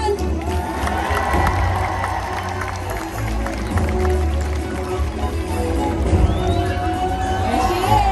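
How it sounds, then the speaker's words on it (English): Crowd cheering at a SeaWorld San Diego orca show, a broad roar of voices rising and swelling over several seconds, with splashing water and an announcer's voice mixed in. "Everyone cheer him on."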